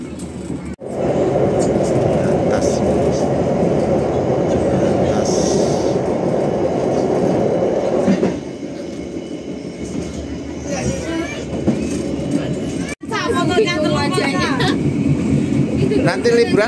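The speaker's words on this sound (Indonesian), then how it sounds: "Kereta Argo Semeru Eksekutif. Kita berpapasan di Kertosono, guys." The Argo Semeru Executive express passenger train rumbles past close by at Kertosono with a continuous roar and rattling wheels, louder at first, easing midway, then swelling again; people talk over it.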